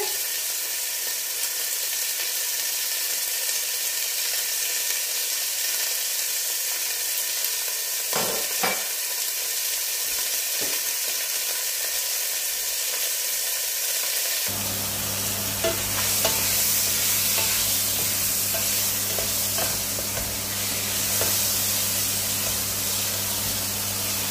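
Garlic hits hot fat with pork and sobrasada, giving a steady sizzle with a few sharp stirring clicks, then a louder, denser frying hiss as the pan heats up.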